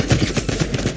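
Gunfire plays in a video being reacted to: a quick burst of several sharp shots, rapid and rhythmic, over about a second.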